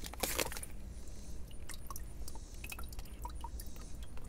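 Water trickles and drips out of a Phalaenopsis orchid pot as it is slowly lifted to drain, giving faint scattered drips and a soft splashy burst near the start over low background noise.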